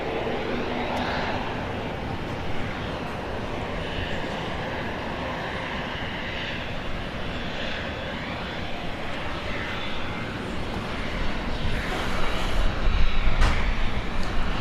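A Southwest airliner bound for Sacramento takes off from runway 31 right at Dallas Love Field at night, producing a steady, loud, broadband jet roar that holds throughout and swells toward the end.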